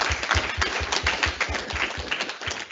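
A round of applause from the audience at a truck driving academy graduation ceremony, steady dense clapping that holds at an even level for a few seconds.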